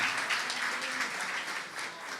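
A church congregation claps during a sermon, a brief burst of fairly faint, dense applause with a slightly rhythmic pulse.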